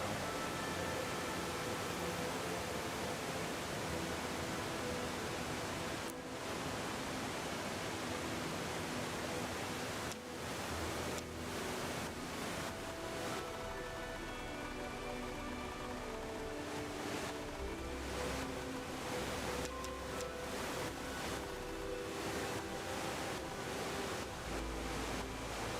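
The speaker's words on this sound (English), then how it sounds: "I have to get past this waterfall somehow" A waterfall in the video game Solateria rushes as a constant, loud broadband roar throughout, with faint clicks and tones layered over the steady water noise.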